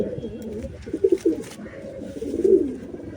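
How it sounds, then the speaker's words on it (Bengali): A large patti pigeon coos close by in a few soft, low, throaty bursts, over quiet background noise. "এটা বড় পট্টি পায়রা"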